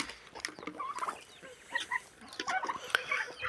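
A black rooster and a black hen cluck on a farm, with repeated short calls scattered throughout, fairly close and clear against a quiet background.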